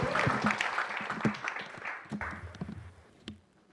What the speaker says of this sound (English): Round of applause for Rory Plans.